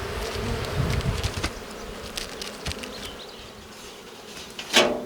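Honeybees hum steadily around an open Ukrainian-Alpine style hive during a spring nest expansion, a close, continuous buzzing drone with a few knocks and a scraping thump near the end.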